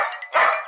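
A cartoon character disguised in a dog's skin lets out a single short bark-like yelp, a person's voice imitating a dog, brief and close with no other sound.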